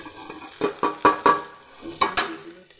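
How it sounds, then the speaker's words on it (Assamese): Onion, ginger, garlic and chili fry in hot oil for biryani, with a soft sizzle under a series of loud, close scraping stirs at an uneven rhythm. "তেলত ভাজিলোঁ, ভাজিয়ে পিঁয়াজখিনি ভাজি ল'লোঁ"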